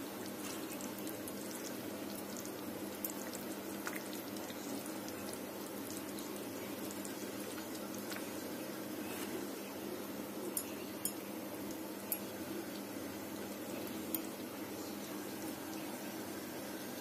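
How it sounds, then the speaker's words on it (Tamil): A pot of sardine curry simmers with a soft, steady bubbling hiss, with occasional tiny pops and clinks, close by and fairly quiet. "பாருங்க, நம்ம மீன் குழம்பு நல்லா கொதிச்சுட்டு இருக்கு"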